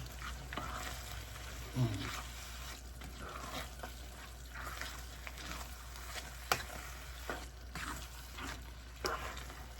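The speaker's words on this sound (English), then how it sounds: "Now you want to just mix the garlic in" Garlic stirred into ground beef and Italian sausage frying in a pan, a quiet steady sizzle broken by scraping spoon strokes and a few sharp clacks against the pan.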